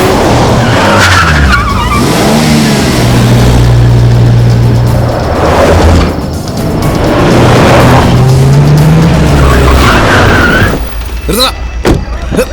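A car speeds off in a film chase scene, its engine roaring loudly with sustained tire squeal and skidding that rise and fall over several seconds before cutting out, with voices heard briefly.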